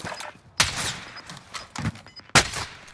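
Gunfire in a shooter video game, three sharp close shots spaced about a second apart, with scattered fainter bangs between them.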